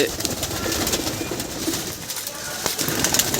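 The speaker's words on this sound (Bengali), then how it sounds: "এই যে দেখুন পায়রাগুলো এবার সামনে থেকে দেখানোর চেষ্টা করবো পায়রাগুলো ভয় পাচ্ছে" Madrasi pigeons, skittish in their loft, coo faintly beneath a dense wash of steady background noise, with no clear speech.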